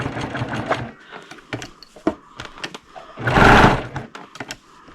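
A sewing machine stitches a reusable mop pad in short whirring runs broken by brief pauses and thunks, close and clear, with a louder burst near the end.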